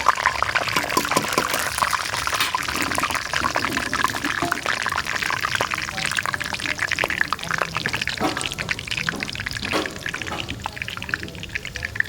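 Whole spices drop into hot oil for tempering and fry with a steady, close sizzle and crackle that runs throughout, while a person talks over it.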